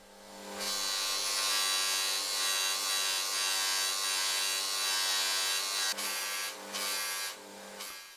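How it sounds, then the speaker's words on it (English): Soft fabric polishing wheel buffing a 50-year-old ball peen hammer with abrasive paste, a loud steady motor whine with a rough rubbing buzz that runs throughout, briefly dipping near the end as the workpiece shifts against the wheel. "This is a softer fabric polishing wheel, but I'll use the same pastes on it, the same abrasive pastes."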